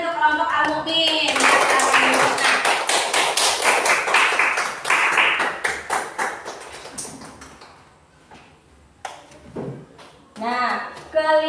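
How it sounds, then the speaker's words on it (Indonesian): Students in a classroom clap for a group that has just presented, a dense burst of hand claps for several seconds that thins out, with voices mixed in and talk resuming afterward. "Kita beri tepuk tangan untuk kelompok Al-Mu'min."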